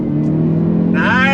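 A 2022 Hyundai Veloster N hot hatch accelerating hard in first gear, a loud steady engine drone near the listener that rises sharply in pitch near the end, with a voice heard over it.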